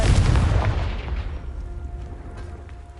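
A Confringo fire-blast spell going off in Hogwarts Legacy, a loud booming explosive burst at the start that rolls off into a fading rumble with a faint lingering tone, no voices.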